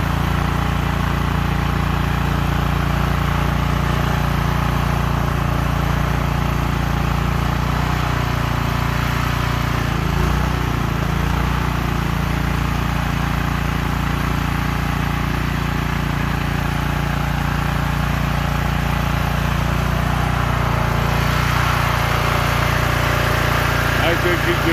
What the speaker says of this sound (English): first time he's ever ran a snowblower